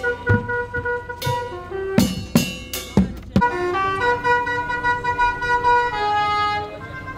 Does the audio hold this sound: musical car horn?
yes